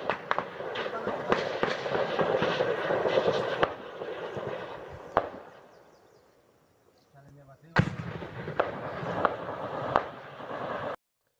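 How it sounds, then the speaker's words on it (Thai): Sharp gunshots and heavier explosion booms from fighting about 400 metres away crack repeatedly at irregular intervals, with someone speaking over them and a quiet gap midway. "ได้ยินไหมครับทั้งเสียงปืนเสียงระเบิด"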